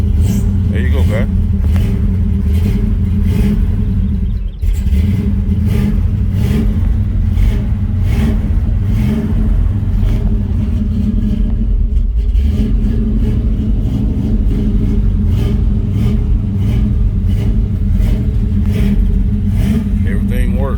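A Chevy truck engine rumbles loud and close just after starting, revving with a steady mid-range drone through the whole stretch while someone talks over it.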